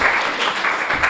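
Congregation clapping at a Sunday church service in a short, dense burst of applause, moderately loud and close, with no talk over it.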